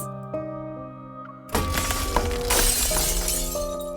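A sudden bright shattering burst cuts through a sustained synth tone in the Love and Deepspace game, a glassy crash followed by a lingering shimmering spray of fragments over the music.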